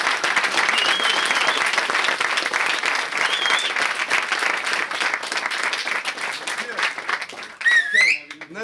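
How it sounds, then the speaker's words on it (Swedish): Sustained audience applause at a Swedish rap battle event, loud and dense throughout, with scattered whoops and cheers near the end as the crowd stays close and energetic. "bara en till applåd till grabbarna som kör in"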